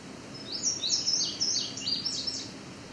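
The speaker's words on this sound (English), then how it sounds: "So you can hear there's a second indigo bunting." An indigo bunting sings a quick series of bright, high chirping phrases, close and clear over a quiet background.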